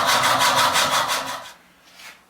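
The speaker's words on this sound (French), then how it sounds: "j'utilise la scie à main" A hand hacksaw cuts through protruding metal screws on a wall-hung toilet frame with quick, steady back-and-forth rasping strokes, then stops, leaving one fainter stroke.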